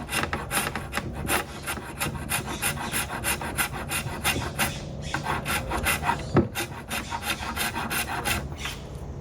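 A rasp file roughing out and rounding a wooden workpiece, with steady, rapid rhythmic strokes close by, each a coarse scraping rasp repeating about twice a second without pause and no talking.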